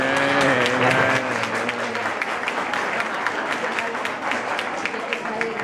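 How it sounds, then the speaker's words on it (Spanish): Applause from the audience at a Madrid patchwork association awards event, steady clapping that begins under a trailing voice and continues evenly at moderate volume. "Podéis aplaudir."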